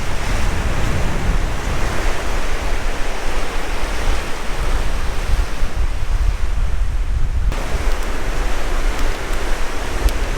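Ocean surf rolling onto the beach at South Padre Island, Texas. A continuous, fairly loud wash of breaking waves runs throughout, mixed with steady wind buffeting the microphone, and no one talks.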